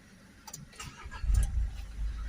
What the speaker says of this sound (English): start the car back up,